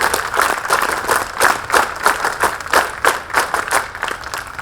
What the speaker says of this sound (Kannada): ಎಲ್ಲರೂ ಒಂದ್ಸತಿ ಜೋರಾಗಿ ಚಪ್ಪಾಳೆ ಹೊಡೆಯೋಣ.